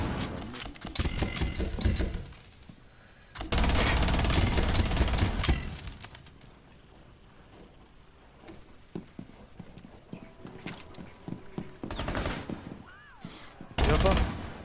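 Rapid bursts of gunfire in the tactical shooter Rainbow Six Siege come in loud, dense volleys separated by quieter gaps, with scattered single shots and clicks between them and brief talk nearby.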